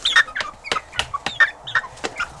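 Chickens clucking in a farm coop in Alberta, a close series of short, irregular clucks and squawks from several birds, with no talk.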